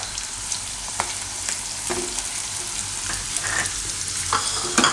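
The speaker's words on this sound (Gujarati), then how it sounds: "હવે લીલું લસણ નાખશું." Green garlic hitting hot oil in a pan, a steady close sizzle with a few sharp stirring clicks and spatters, no talking.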